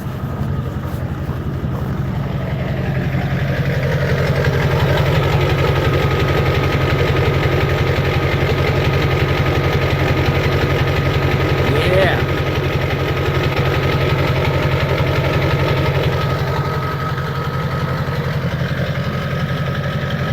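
A truck engine idles steadily after a cold start with a deep, continuous rumble and vibration, holding an even level throughout with no speech.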